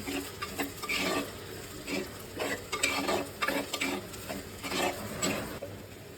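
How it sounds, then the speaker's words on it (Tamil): Ground paste is poured into a pan of frying onions and curry leaves for a bean kurma, with bursts of sizzling and a spoon scraping and stirring against the metal close by. "இப்போ வந்து நான் அரைச்சிட்டு வந்துருக்கிற பேஸ்ட்டை வந்து இதில் ஊற்றிட்டு போகிறேன்"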